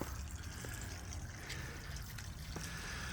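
Hot water mixed with fine sediment pours from a hot water heater being drained and flushed, a steady, soft rushing trickle that runs continuously without a break.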